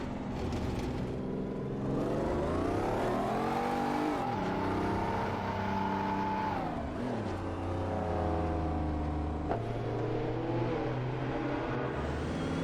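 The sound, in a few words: race cars overtaking in a video game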